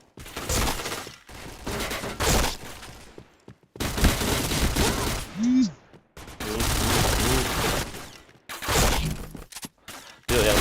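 Gunfire from the shooter video game Point Blank comes in separate loud, close bursts with short silent gaps between them, along with game sound effects and brief voice callouts.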